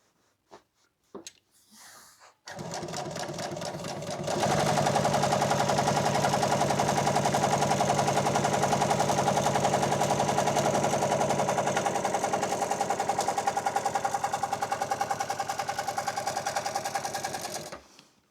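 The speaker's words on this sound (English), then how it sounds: "let's go ahead and sew that up." Sewing machine stitching motorcycle seat upholstery: a few soft clicks, then a steady fast mechanical whir that speeds up and holds loud and even for over ten seconds before stopping.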